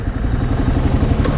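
Engine of a 2006 Kawasaki KLR650 motorcycle with about 8,500 miles, a loud, steady, close single-cylinder rumble with a fast even pulse and no change in pitch.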